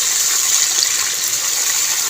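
Garlic and ginger water being poured into a karahi while cooking charsi karahi, a steady rushing, gushing pour with sizzling hiss running continuously and loudly for the whole stretch.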